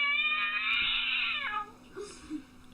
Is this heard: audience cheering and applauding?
no